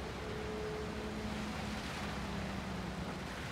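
Steady rushing wash of concrete pouring from a mixer in the construction game Bausimulator 2022, a continuous low roar with a faint tonal hum running underneath throughout.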